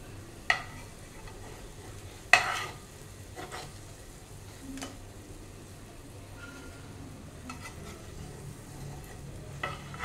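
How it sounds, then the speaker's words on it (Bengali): Raw mango chops frying in a pan give a quiet steady sizzle, broken by a few sharp clinks and scrapes as pieces are turned and lifted out one at a time. "তো দেখুন চপটা দুদিকেই ভালোভাবে ভাজা হয়ে গেছে, এবার আমি একটা করে তুলে নিচ্ছি।"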